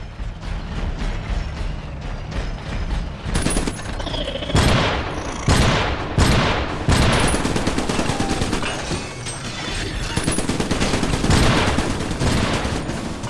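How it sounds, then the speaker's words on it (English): Loud, repeated blasts from a shotgun turret emplacement in the Iron Brigade video game ring out in clusters over a constant rumbling battle din, with mechanical clanks between shots. "Shotgun turret inbound to your location."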